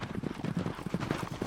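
Horses' hooves clip-clop in a quick, steady rhythm on a ranch. The hoofbeats come through moderately close and are mostly clear of any talk.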